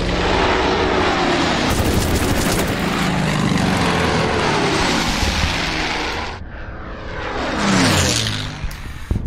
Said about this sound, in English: the fighters will be landed and bombers will be scrambled